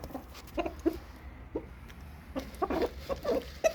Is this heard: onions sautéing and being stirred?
no